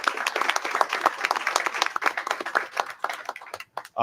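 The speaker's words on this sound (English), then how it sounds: "Round of applause for her." A crowd at a school board meeting claps steadily for a few seconds, crisp individual claps blending into applause that thins out and stops near the end.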